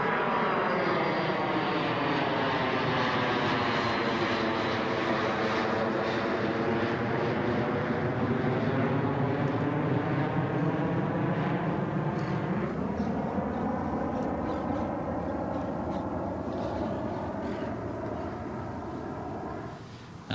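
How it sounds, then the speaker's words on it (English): A fixed-wing plane roars overhead while taking off near a golf course, a loud sustained engine drone with a falling then rising pitch sweep as it passes, fading slightly toward the end. "before I cue Tim Barton, I'm actually giving planes clearance for takeoff. It's just there are so many of them"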